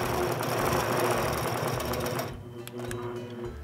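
A sewing machine stitches quilting along a ruler, its rapid mechanical buzz loud and continuous for about two seconds before easing to a lighter, slower run.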